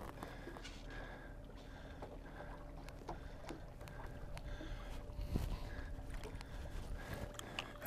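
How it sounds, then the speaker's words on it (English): An electric trolling motor on a fishing boat out trolling for striped bass gives a steady low hum beneath water lapping and wind noise, with occasional knocks against the hull. "here I got my trolling motor on. I can just drive us over to where I see the fish"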